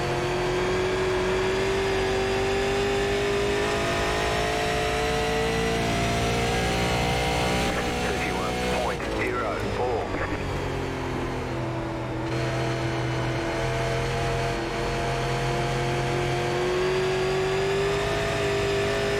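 A super late model race car engine in iRacing at New Hampshire Motor Speedway drones steadily at high revs, loud and continuous, with a brief dip and shift partway through before climbing back to a sustained roar.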